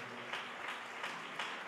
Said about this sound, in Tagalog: Palakpakan po natin ang ating mahal na Panginoon.